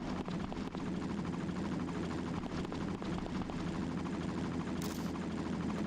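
A helicopter in a video game roars steadily throughout with a dense, continuous rotor drone, loud and close, with no one talking.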